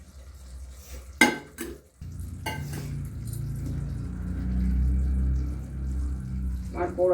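Pabda fish goes into burnt spice masala in a pan over lowered gas, a sharp clatter of utensils followed by a steady low sizzle, with another metallic rattle near the end.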